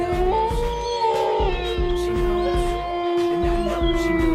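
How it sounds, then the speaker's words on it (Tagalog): A dog howls in long sustained wavering tones, loud and close, over a steady low rhythmic background with other sounds mixed in. "ayan na naman yung alulong ng aso"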